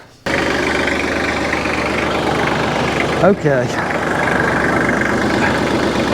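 A farm tractor idles steadily while hitched to a lowered hay tedder in a field. The engine makes a loud, even rumble with a brief mechanical clunk partway through, and a voice speaks once near the start.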